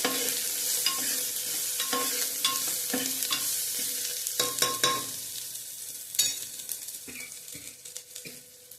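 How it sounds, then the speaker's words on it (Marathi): Dal tadka masala being stir-fried in a pot, with a continuous close sizzle and repeated spoon scrapes and clinks that grow sparser and more distinct toward the end, no talk. "पुन्हा एकदा छान परतून घ्यायचा आहे."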